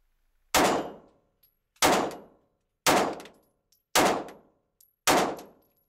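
Five sharp Glock 26 pistol shots ring out at a shooting range, evenly spaced about a second apart, each loud crack trailing off in a brief echo, with quiet between them.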